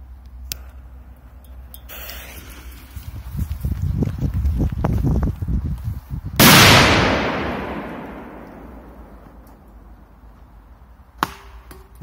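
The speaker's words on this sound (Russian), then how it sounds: "сейчас будет супер мощная петарда П23." Rustling and scraping build up, then one loud, sharp blast from a powerful P23 firecracker under a metal bowl, with a long ringing decay, followed by quiet and a faint click.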